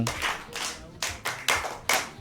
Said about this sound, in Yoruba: ẹ pàtẹ́wọ́ fún.